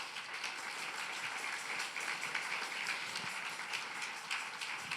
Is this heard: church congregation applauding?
yes